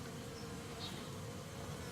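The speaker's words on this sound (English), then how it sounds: "There's a wet sleepy bee on the top of this one over here." Bees buzzing around backyard beehives, a steady, dense droning hum that stays even and close throughout, with no voices.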